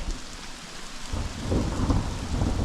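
Thunder rumbles through a thunderstorm with steady rain during a backpacking trip. It is a loud but not very close roll that swells about halfway through over a constant rain hiss, with no voices.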